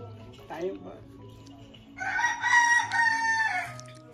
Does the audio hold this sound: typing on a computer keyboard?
no